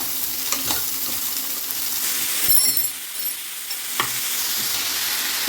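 Chopped onion with ginger, garlic and green chili sautéing in a pan, a steady close sizzle with scattered clinks of a stirring spoon and no talk.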